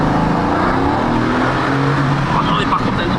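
A 750-horsepower Mercedes-AMG GT S engine roars steadily and loudly up close, a dense continuous rumble filling the whole stretch with no pause.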